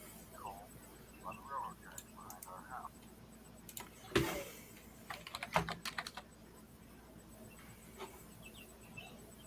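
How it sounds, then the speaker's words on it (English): A computer keyboard being typed on in the background during a live stream, with short faint bursts of clicks and a louder cluster midway, mixed under distant talk and some room noise. "I can hear his keyboard"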